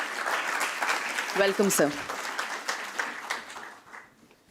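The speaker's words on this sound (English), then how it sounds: "Let's welcome him with a round of applause, everyone." Audience applause at a stock listing ceremony for a health insurance company, a steady wash of clapping welcoming a speaker on stage, with a voice briefly speaking over it before the clapping thins out and fades.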